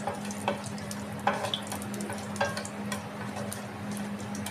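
Jowar gatka upma frying in a pan, a soft sizzle broken by repeated scraping stir strokes. The sound is faint, close and steady, with no talking.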